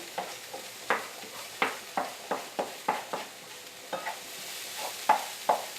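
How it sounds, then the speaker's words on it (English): Ground turkey sizzles with leeks in a pan, a soft steady fry broken by a rhythmic series of spoon scrapes and stirs. "Drop in our ground turkey."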